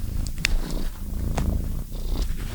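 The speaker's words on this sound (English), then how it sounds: "This is Maggie the cat" A domestic cat purrs close up in a steady, rumbling rhythm, with soft breaths and faint small movements, no voices.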